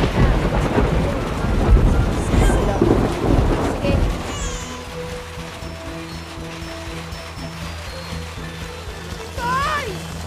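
Heavy rain pours with low thunder rumbling in the first few seconds, then the downpour eases to a softer patter while people talk and a brief whistle-like tone rises near the end.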